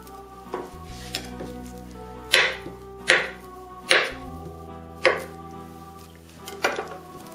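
Knife chopping a banana into pieces in a home kitchen, about six sharp board strikes spaced roughly a second apart, close and distinct, over a low steady background hum with no talking.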